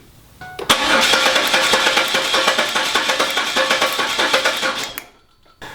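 A 1997 Camaro engine cranks over without starting during a compression test, the starter churning in a steady, rapid rhythmic whir for about four seconds, loud and close, then cutting off abruptly.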